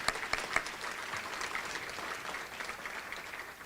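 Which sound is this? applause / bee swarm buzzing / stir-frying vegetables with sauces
applause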